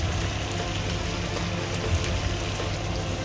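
Onions and chilies fry in hot oil for a chicken pulao, making a dense, even crackling hiss that carries on without pause, close and fairly loud.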